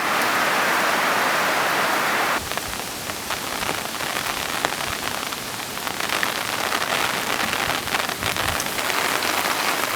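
Heavy tropical cyclone rain pours down steadily, a dense, loud hiss of drops drumming on surfaces throughout, with no voices.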